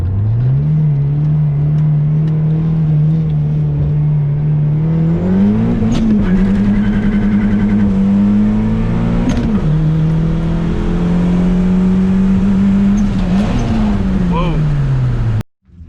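A car engine drones loudly and steadily in first gear, then revs up in several rising surges with brief dips between them before cutting off abruptly at the end.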